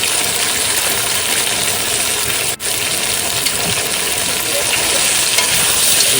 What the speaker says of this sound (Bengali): এবার এটাকে সুন্দর করে কষে নেব।